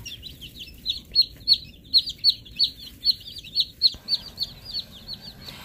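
Baby chicks under a heating light give rapid, high-pitched chirps in a steady run of evenly spaced peeps, fairly close and continuous over a low background hum.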